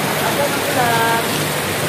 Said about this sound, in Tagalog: Karon kay nagkusog kayo ang ulan